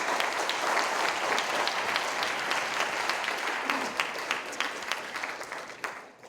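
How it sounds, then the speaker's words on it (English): Audience applause for the judges at the Duke Startup Challenge grand finale, a sustained, dense round of clapping from a large crowd that holds steady and then tapers off toward the end. "Let's give a round of applause to all of our judges."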